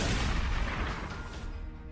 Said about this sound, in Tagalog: Nang nasa harap na nila ang aso, ay nagpaputok ng baril si Baldo.